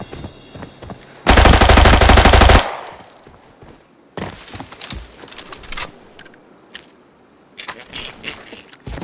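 Automatic gunfire in the video game Arena Breakout, one loud sustained burst early on followed by quieter scattered shots, clicks and rattling equipment, with no speech.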